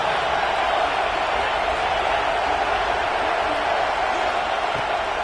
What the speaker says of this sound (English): Here comes the noise from this big crowd in Happy Valley on third down